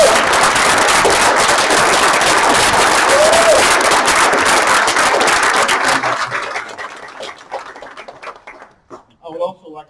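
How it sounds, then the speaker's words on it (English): A standing audience at a recovery center graduation applauds loudly for the graduates, a dense, sustained wash of clapping and some cheers that fades out over the last few seconds. "give a round of applause for these graduates"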